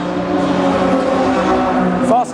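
Race cars passing at Brands Hatch circuit, a blue Nissan Skyline leading, heard as a loud, sustained engine drone whose pitch sweeps and climbs, ending abruptly, with a commentator talking over it.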